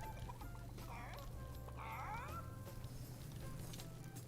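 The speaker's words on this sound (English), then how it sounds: "Is it one of my challenges to chase a chicken?" A chicken clucks a few times in the Fortnite video game, short chirpy calls over a steady low game hum with faint background sounds.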